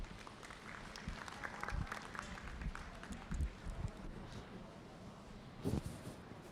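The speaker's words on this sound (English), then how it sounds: "Let's give this guy a round of applause." Applause from the audience at a Suffolk sheep show for a ram lamb exhibitor, a steady patter of clapping at moderate distance with a few louder bursts, no talking over it.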